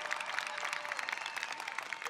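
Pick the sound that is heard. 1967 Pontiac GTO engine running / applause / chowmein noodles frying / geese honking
applause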